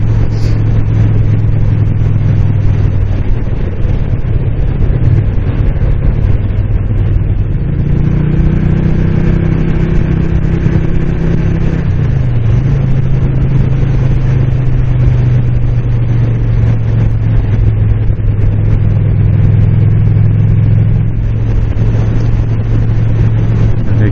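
A 2007 Moto Guzzi Breva motorcycle cruises steadily at about 2500 RPM on a desert lake road, its engine giving a constant close droning hum with slight shifts in pitch and no talking.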